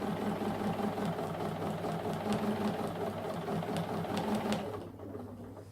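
A sewing machine runs steadily while quilting, its needle motor humming loud and continuous up close before easing off near the end, with no speech.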